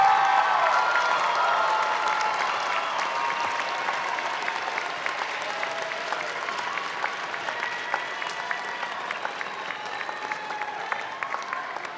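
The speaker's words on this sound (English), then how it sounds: "Would all the graduates please stand up, turn around, and applaud your family members and friends who are here today?" Graduates at a university fall commencement applaud their families and friends, a large crowd clapping steadily and loudly throughout, easing slightly toward the end.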